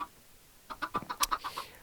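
Chickens in the video game Minecraft, kept on a built structure, cluck in a quick run of short, bright calls after a brief quiet start, close and clear with no talk.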